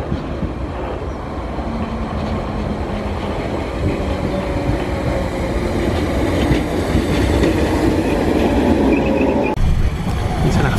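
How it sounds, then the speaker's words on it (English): Train pulling into a station in Southport: a steady, loud rumble of wheels and carriages with a faint rhythmic clatter, holding even for about ten seconds before a sudden drop near the end. "The train's here."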